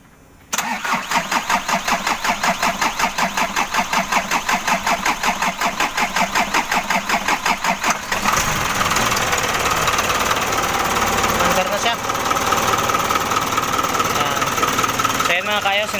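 A diesel engine cranks and catches after its fuel and oil lines are tightened, followed by a loud, rough, knocking idle that runs steadily close by.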